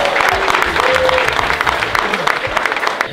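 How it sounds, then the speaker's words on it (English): Audience at a YouTube golf day at Formby Hall Golf Resort applauding, dense sustained clapping from a nearby crowd with a few voices mixed in, fairly loud throughout. "So can we give Formby Hall a massive round of applause?"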